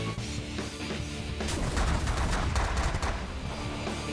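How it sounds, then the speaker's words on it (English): Space combat in the strategy game The Last Federation, with rapid weapons fire and a missile impact against a pirate base, a dense crackling burst of shots that swells in the middle, with no talk. "There's a missile about to hit me, so let's take care of my shield problem and the missile at the same time"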